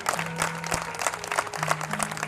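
Audience applause at a Matr Pitr Vandan gathering during the Naitik Utsav event, a steady patter of clapping lasting a couple of seconds with a low background hum, no voices on top.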